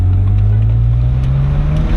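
A 2008 BMW 135i convertible's engine hums steadily with a low, gradually rising tone as the car accelerates, close and continuous with no talking.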